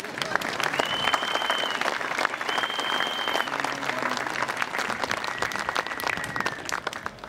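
A crowd at a large farmers' rally in Marktheidenfeld claps together in a dense, continuous wash, with some whistles and cheers rising over it, loud and close throughout.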